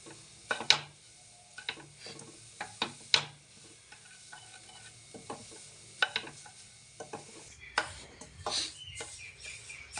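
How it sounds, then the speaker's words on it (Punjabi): A spoon stirs and scrapes semolina roasting in ghee in a pan for jaggery halwa, with irregular close-up scrapes, clinks and soft sizzling and no voices. "ਐਦਾਂ ਹੀ ਚਮਚਾ ਫੇਰ ਕੜਸੀ ਫੇਰ ਫੇਰ ਕੇ ਆਪਾਂ ਇਹਨੂੰ ਸੂਜੀ ਨੂੰ ਭੁੰਨਦੇ ਰਹਾਂਗੇ"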